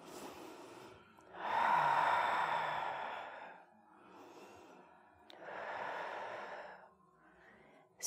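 Deep breathing during a gentle yoga session for breast cancer recovery, two long slow audible breaths, each a drawn-out exhale, close and soft with quiet pauses between.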